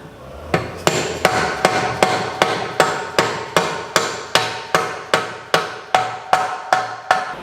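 Steady, ringing hammer blows strike a 1 7/8 socket, driving a part into a Ford 9 inch rear axle housing: about fifteen evenly spaced metallic hits, close and loud, with no voices.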